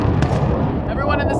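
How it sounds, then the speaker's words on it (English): Heavy rumbling explosions from a precision airstrike in a video game, a dense, continuous barrage of booms filling the whole stretch, loud and close. "Friendly precision airstrike inbound."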